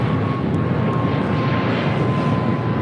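A United airliner taking off from runway 25 right at Los Angeles International Airport, a steady broadband engine roar with a faint tonal whine, heard at a distance and constant throughout, with no talk.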